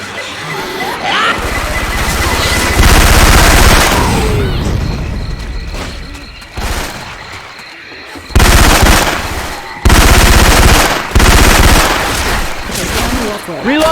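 Heavy Syphon Filter-style weapon fire modded into Left 4 Dead 2 rattles in loud, sustained automatic bursts with booming shots, broken by short pauses in a swamp battle.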